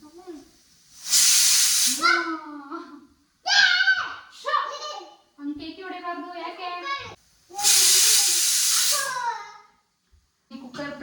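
A pressure cooker vents steam in loud hissing bursts, two long blasts separated by a gap. Sharp whistle-like tones sound between and after the blasts, with scattered speech-like sounds in the quiet spaces.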